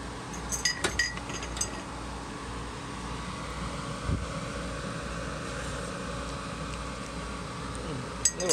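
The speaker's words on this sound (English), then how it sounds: "I'm gonna stir it up and taste it again." A spoon stirs food in a pot, giving a few bright metallic clinks near the start and again at the end over a steady, faint background hum.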